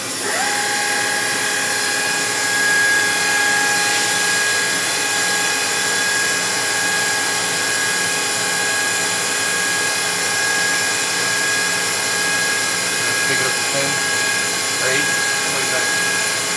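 The spindle of a Kitamura Mycenter HX250 machining center spins at 5,000 RPM, producing a loud, steady, high-pitched whine with a constant mechanical hum, unchanging for the whole stretch.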